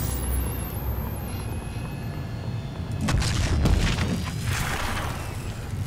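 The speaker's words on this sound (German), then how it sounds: "Bin noch ein bisschen mit dem Panzer gerade unterwegs." Heavy tank rumbling along in the video game Rage 2, a loud continuous low engine drone with deep booms and crashing bursts near the middle, no talking.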